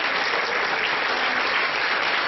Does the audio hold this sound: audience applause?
yes